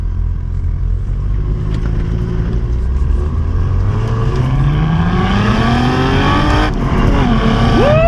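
A 2022 Cadillac CT4-V Blackwing with a six-speed manual, exhaust in its quieter setting, drives a winding road, its engine and exhaust loud and close, with rising and falling revs through the gears and a sharp climb near the end.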